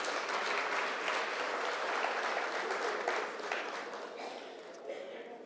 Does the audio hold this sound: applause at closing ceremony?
yes